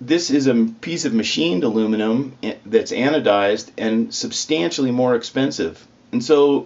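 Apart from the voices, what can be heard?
No distinct noise like a dog, phone or traffic.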